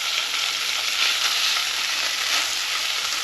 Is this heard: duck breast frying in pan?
yes